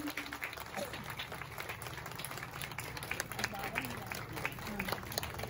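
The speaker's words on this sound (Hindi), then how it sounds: "हम सब तालियों द्वारा स्वागत करते हैं।" Steady applause from an audience at a Brahma Kumaris Shiv Jayanti celebration fills the whole stretch, a dense wash of clapping with voices faintly mixed in underneath.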